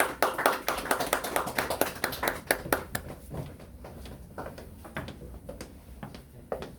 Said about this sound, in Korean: 박수로 맞이해 주시죠.